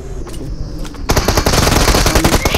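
Rapid automatic gunfire in PUBG Mobile: a dense, loud burst of fast repeated shots erupts after a quieter stretch of scattered distant firing and carries on to the end.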